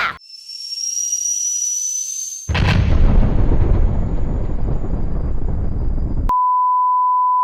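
A rising whistle is cut off by a loud burst of explosive rumble and hiss that fades, then a steady electronic beep tone ends it.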